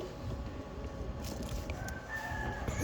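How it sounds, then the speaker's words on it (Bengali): Chickens on a poultry farm cluck and call at moderate loudness over a steady low barnyard rumble, with a brief crowing-like note near the end and no talking. "চলুন আমরা এখন মুরগির বাচ্চা দেখি"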